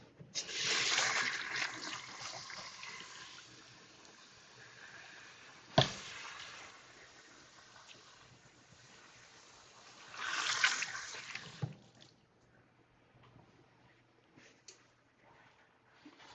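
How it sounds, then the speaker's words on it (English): A kitchen tap runs while hands are washed, with two bursts of splashing water, one at the start and one later, separated by quieter handling and a single sharp knock. "I'm going to wash my hands"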